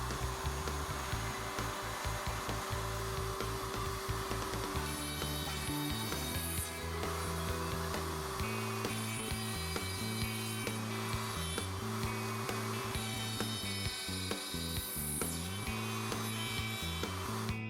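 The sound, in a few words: router table routing socket boards on Leigh RTJ400 dovetail jig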